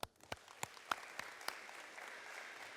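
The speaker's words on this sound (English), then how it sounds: "I want to give them one more time a round of applause." A handful of faint, scattered claps, about six distinct sharp slaps spaced across a couple of seconds, from a small audience at a high school college signing ceremony.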